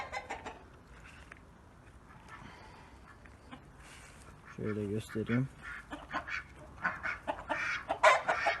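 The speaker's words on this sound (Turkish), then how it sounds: "Ve tavuklarımız var burada." Chickens cluck in short bursts nearby while a person talks over them, the calls growing busier toward the end.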